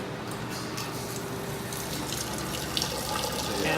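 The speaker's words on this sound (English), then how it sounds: "Man, that's not a fast faucet either." A slow kitchen faucet runs steadily into a container while water is collected for cooking fly food, a continuous splashing stream that swells slightly toward the end.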